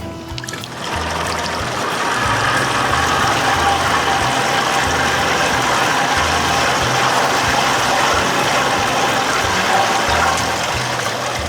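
A 60 hp Johnson outboard motor runs on a boat with a steady, loud, throaty drone that holds an even pitch after a brief start, close by and uninterrupted.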